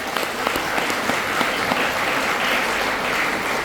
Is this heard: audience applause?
yes